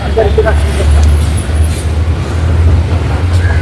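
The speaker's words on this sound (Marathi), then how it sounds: "आता हायवे क्रॉस करायचा आहे" Steady, loud traffic roars past on a highway, with heavy vehicles rumbling low and continuous noise throughout, nearby and unbroken.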